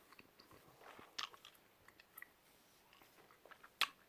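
Gum is chewed close to the microphone in a quiet room, with soft wet smacks and occasional sharper clicks in an irregular rhythm and no talking.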